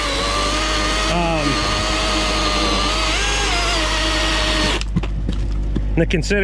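A DeWalt 16-inch chainsaw cutting firewood makes a loud, sustained whine that rises and dips under load for nearly five seconds. It then winds down into idling and scattered knocks while someone talks nearby.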